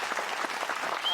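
A studio audience clapping during a Hindi TV comedy show's lemon-and-spoon contest, a brief dense burst of many hands at moderate distance, steady and alone without talk.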